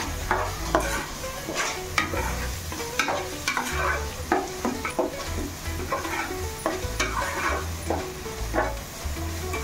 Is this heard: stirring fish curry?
yes